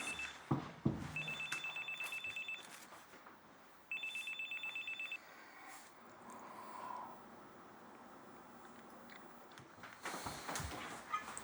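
A cell phone rings indoors in two repeated electronic bursts of a bright, steady tone, fairly close and clear, with quiet room noise and a few clatters between the rings.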